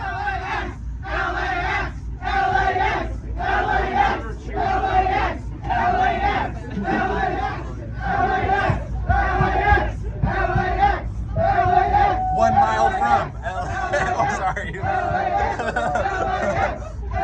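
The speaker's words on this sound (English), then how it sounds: "with cheers coming from the crowd each time we reached a station" A crowd aboard the new train to LAX cheers and whoops in repeated rhythmic surges as it reaches a station, loud and close, with chatter running underneath.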